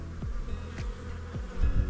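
Honeybees hum and buzz around a water source, a steady insect drone with a few louder passes close by as individual bees fly near.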